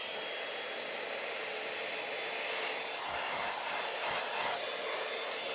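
A tiny £15 Aldi car vacuum cleaner blows air through its attached nozzle, giving a steady, close, airy hiss that holds evenly throughout with no one speaking.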